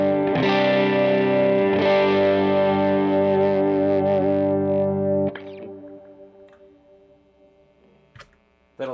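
Electric guitar run through wet effects pedals: a long sustained chord washed in chorus and echo rings loudly, then cuts to a fading shimmering tail with faint ticking repeats and a sudden note at the end.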